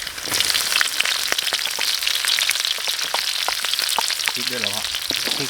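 Chopped garlic fries in hot oil in an outdoor forest kitchen, a dense, steady crackle with sharp pops throughout and a brief voice near the end.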